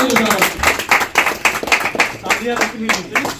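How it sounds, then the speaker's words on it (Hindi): Rhythmic clapping from a crowd welcoming a guest at a swearing-in ceremony, steady claps under someone speaking loudly over a PA. "जोरदार तालियों से स्वागत।"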